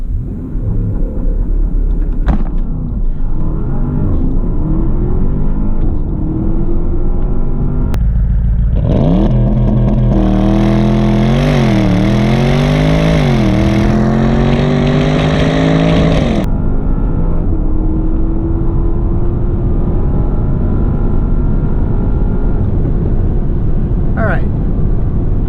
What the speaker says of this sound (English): We're going to do launch control in the 2018 Panamera Turbo S E-Hybrid Sport Turismo.